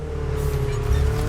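BMW Z roadster engine in The Crew Motorfest, a short, steady, close drone of cruising with a low rumble underneath.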